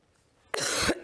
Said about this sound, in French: Vous allez m'excuser, j'ai vraiment besoin de tousser.